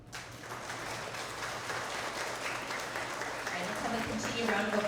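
An audience at an elementary school award assembly applauds in a steady, moderate round of clapping that swells slightly, with voices faintly audible near the end.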